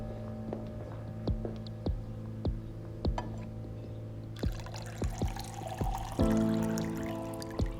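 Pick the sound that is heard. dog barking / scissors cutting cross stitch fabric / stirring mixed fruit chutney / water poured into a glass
water poured into a glass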